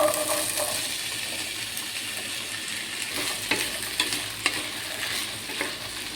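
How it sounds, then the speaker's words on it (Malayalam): Ivy gourd sizzles in about one and a half spoons of oil on a tawa, a steady close frying hiss with a few light stirring clicks and taps, no voices. "ഞാനൊരു തവ വെച്ച ശേഷം ഒരു ഒന്നര സ്പൂണ് എണ്ണ ഒഴിച്ചു കൊടുത്തിട്ടുണ്ട് അതിലേക്ക് നമ്മൾക്ക് ഈ കോവയ്ക്ക ഒന്ന് ഇട്ട് കൊടുക്കാം"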